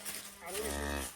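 A cow and calf on a farm, one drawn-out low moo rising and holding steady, loud and close, with faint background voices.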